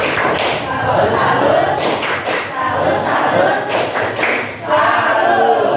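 A group performs a rhythmic salute clap, loud and close, with patterned bursts of clapping mixed with chanting voices and crowd noise.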